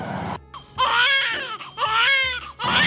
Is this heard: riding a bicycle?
no